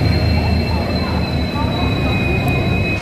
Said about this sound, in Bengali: ট্রেন স্টেশনে প্রবেশ করেছে।